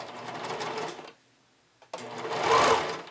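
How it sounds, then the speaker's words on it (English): A sewing machine stitches binding onto a bikini top with a 3/8-inch seam allowance: a steady close mechanical whirr for about a second, a brief quiet pause, then a second, louder run of stitching. "I'm just going to stitch this down here."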